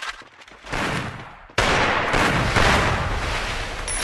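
Dense, loud bursts of gunfire from a mobile shooter game played on an iPhone 17 Pro Max, starting sparse and then erupting into a sustained, booming barrage with no voices over it.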